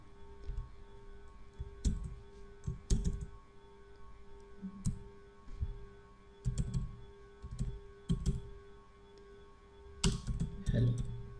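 Computer keyboard typing on a Windows PC during a MongoDB install, scattered bursts of clicking keystrokes close by, quiet between, with a faint steady hum underneath and no clear talk.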